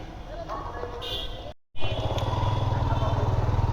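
A motorbike rides past outdoors, its engine rumbling and then settling into a pulsing, close throb after a brief cut, while people talk over it.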